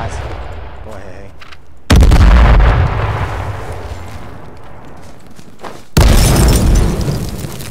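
Two grenade explosions in a video game hit hard and loud, about four seconds apart, each a sudden booming blast that rings out into a lingering roar over quieter gameplay noise.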